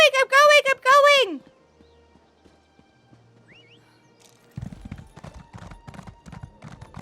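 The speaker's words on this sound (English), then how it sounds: "how does like a brand new character without a max speed horse keep up with Lotus" In Elder Scrolls Online on Summerset Isle, a horse whinnies loudly, and after a quiet pause, rhythmic clip-clopping hoofbeats of a gallop start up and continue steadily.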